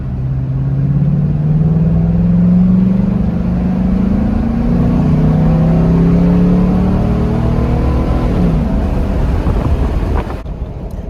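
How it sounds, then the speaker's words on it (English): A Chevrolet Silverado fitted with an upgraded air intake pulls loudly, a rising and falling engine drone with intake whoosh and heavy wind rush, steady and close until it eases off at the end. "I can actually hear the air being sucked in."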